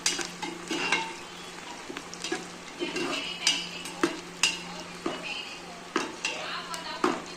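Khichdi sautéing in oil in a pan for a simple dal khichdi, with a soft steady sizzle, repeated scraping and stirring strokes and occasional clinks of a spoon against the pot at close range.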